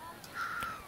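A single crow caws once, faint and distant, within a generated outdoor bird ambience over a quiet background.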